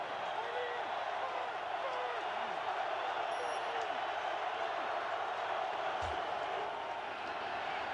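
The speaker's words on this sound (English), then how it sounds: "the crowd's into it. It's really noisy out here." A large football stadium crowd in a Redskins versus Eagles game roars continuously, a dense, loud wash of distant voices and cheering that stays steady throughout, with faint calls and a brief thud rising out of it.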